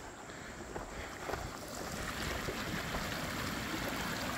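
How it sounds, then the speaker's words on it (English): Mine water from a reclaimed West Virginia coal mine flows out into a temporary diversion channel, a continuous broad rushing wash that swells slightly louder partway through, with no voices. "every bit of the mine water now is running out into this temporary diversion channel"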